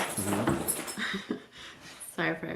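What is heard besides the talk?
dogs whimpering in background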